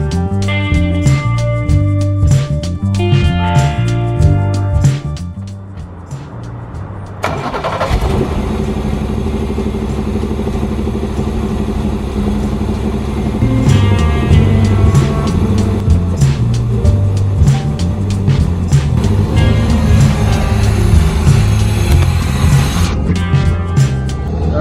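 A wrecked Ferrari replica's engine cranks and catches, then runs steadily at idle with a few revs. The engine is close and loud, and musical tones sound faintly before it fires.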